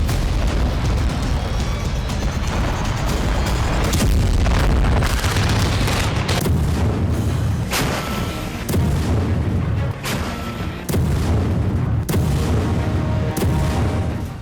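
Explosions from bombing in Gaza come as heavy booming blasts and rumbling bursts, loud and continuous, with several sharp impacts standing out through a dense low roar.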